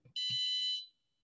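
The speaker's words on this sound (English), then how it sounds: "when light hits the LDR, all of a sudden the buzzer goes off" A light-triggered drawer alarm built for a physical computing project, its buzzer sounding one loud, steady high electronic tone for just over half a second before cutting off, with brief soft knocks near the start.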